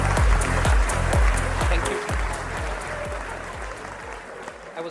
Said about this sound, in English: A big round of applause, people of the audience